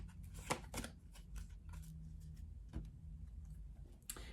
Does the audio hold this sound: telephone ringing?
no